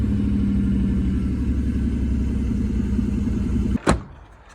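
A twin-turbo V8 in a Ford Focus rumbles steadily at idle after starting, loud and close, with a low throbbing drone, then a sharp thud near the end.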